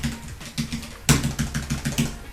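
Fast typing on a Logitech G915 TKL mechanical keyboard gives a close, crisp rhythmic run of key clicks, with a louder burst of strokes midway.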